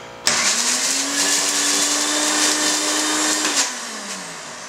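An InnoMix Surya mixer grinder jar whirs into a loud, steady high-pitched grinding that starts abruptly, holds for about three seconds, then winds down as the motor stops.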